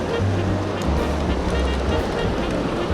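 A steady, loud rush of a waterfall on a trout stream, continuous broadband roaring water filling the whole moment without a break.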